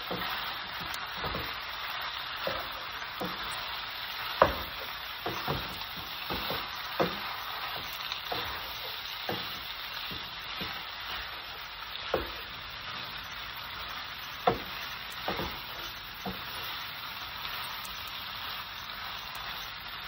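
Beef, broccoli and bell pepper stir-frying with oyster sauce, a continuous close sizzle broken by repeated scraping and clinking as the food is stirred and tossed.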